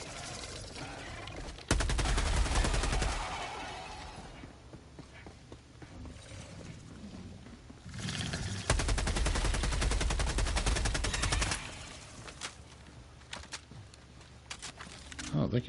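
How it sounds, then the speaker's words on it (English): Sustained machine gun fire rattles in Helldivers 2 during a fight against bugs, loud dense bursts that come in two long stretches with quieter game noise between them, and a player talks over it. "Oh, thank you, machine gun."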